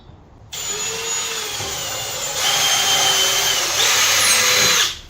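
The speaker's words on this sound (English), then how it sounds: "So we pre-drill." An electric drill pre-drilling into bamboo runs steadily for several seconds, its whine shifting pitch partway through as it bites into the material, then stops abruptly.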